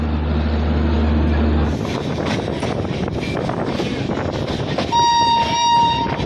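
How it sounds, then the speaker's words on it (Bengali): Shatabdi Express from New Delhi to Ajmer at Rewari Junction in Haryana, a loud continuous rumble of the passing train with a low horn at the start and a high tonal squeal or horn near the end. "এটা হলো শতাব্দী এক্সপ্রেস, যাচ্ছে নিউ দিল্লি থেকে আজমির।"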